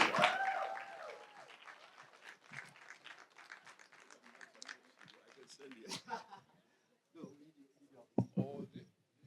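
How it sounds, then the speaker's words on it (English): An audience at a closing plenary claps and laughs to welcome keynote speaker Brian Kagoro. The applause is moderate and fades into scattered claps and chuckles, with a voice heard early on. "let's give him a bigger applause that actually matches the problems of Africa"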